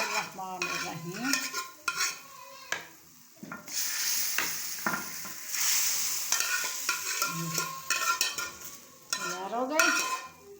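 A tadka (baghar) tempering sizzles loudly for Pakistani chicken nihari, with hot fat hissing in broad bursts through the middle and metal stirring and clatter around it.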